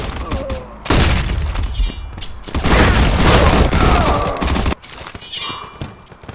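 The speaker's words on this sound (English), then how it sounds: "Flashbang!" A flashbang grenade goes off in a first-person shooter match on a construction-site map, a loud burst of noisy crackle under brief shouted callouts.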